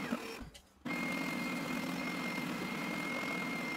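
A spindle sander runs steadily while shaping a pallet-wood peacock in a workshop, giving a continuous mid-level motor whine and sanding hiss that dips briefly near the start before resuming and holding constant.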